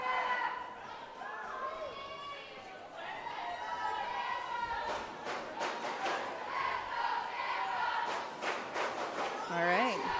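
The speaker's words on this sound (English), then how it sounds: "we heard a Denver cheer" Crowd noise at a Goose Bumps 2025 football game, Denver Bruising Altitude against Tampa, with a loud, steady roar of cheering and shouting voices filling the whole stretch and swelling toward the end.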